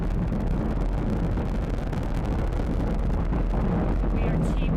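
Falcon 9 first stage with nine Merlin engines roaring during a crewed Dragon launch, a dense continuous low rumble heard distantly through wind buffeting, steady throughout.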